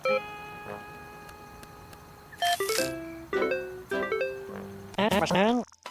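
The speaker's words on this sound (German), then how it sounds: "ich ruf mal die 1 an" Phone keypad tones in Tiny Terry's Turbo Trip, a faint sustained tone and scattered ticks, then several separate bright beeping chimes and a rising warble near the end.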